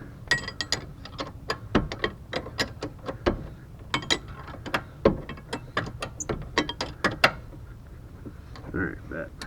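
A ratchet clicks in quick, irregular bursts while a bolt is tightened during a rear brake replacement on a 2007–2012 Nissan Altima. The sharp, close clicks come in short runs with brief pauses, and a voice speaks briefly among them.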